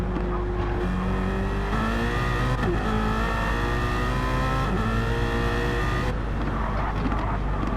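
BMW M3 racing in Gran Turismo 7 during a one-hour endurance race, engine note stepping down through a very low-rev downshift, loud and steady with harmonic engine drone throughout.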